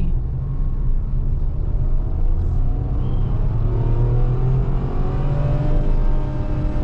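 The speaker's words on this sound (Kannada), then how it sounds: "ಪೋಸ್ಟ್ 5000 ಮೇಲೆ ಮಾತ್ರ ಇಂಜಿನ್ನು ಸಕ್ಕದಾಗಿ ಸೌಂಡ್ ಮಾಡುತ್ತೆ, ಒಂಥರ ಸ್ಪೋರ್ಟಿ ವೆಲ್ ಸೌಂಡ್ ಮಾಡುತ್ತೆ" Tata Altroz Racer engine accelerating from inside the car, a loud steady droning rumble with rising engine tone as revs climb toward the redline, dominating throughout with no talk.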